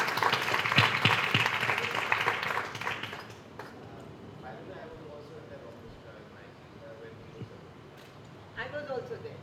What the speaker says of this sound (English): He needs a clap for that.